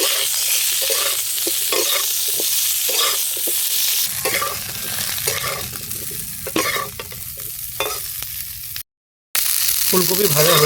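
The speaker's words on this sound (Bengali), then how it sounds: "এবারে কেটে রাখা ফুলকপিগুলো হালকা ভেজে নেব।" Cauliflower pieces fry lightly in oil with a little turmeric in a kadai, a loud continuous sizzle broken by scraping stirs, the crackle changing character midway and pausing briefly near the end.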